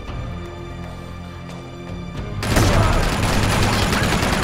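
In Uncharted 2, gunfire rings out as a dense burst of rapid shots, loud and sustained through the second half after quieter game sounds, with no speech.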